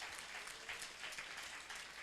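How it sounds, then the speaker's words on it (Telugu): A church congregation clapping together during worship, a dense steady burst of applause heard from within the crowd, with no clear speech. "గట్టిగా చప్పట్లు కొడుతూ స్తోత్రం చెల్లిద్దాం"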